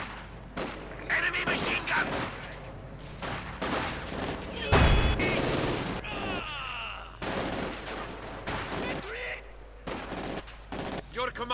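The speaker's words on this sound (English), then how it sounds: "Enemy machine gun." Machine gun fire and scattered gunshots from the battle game Company of Heroes 2, rattling in repeated bursts alongside one heavy boom, with voiced game announcements over the combat.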